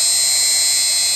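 A steady, high-pitched mechanical whine of a Shapeoko 3 XXL CNC machine spindle peck drilling with a 0.01-inch drill bit, running continuously, loud and close, with no voices.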